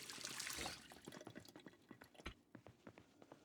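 Water being collected in the video game Project Zomboid, a faint rush of running water at first that gives way to quiet, irregular drips and splashes, with no speech.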